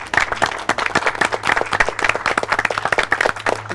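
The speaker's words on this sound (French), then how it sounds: "Bon, bien dire, vous applaudissez." An audience on a cooking show claps together, a brisk, close, steady round of many hands with sharp individual claps and a faint low hum underneath.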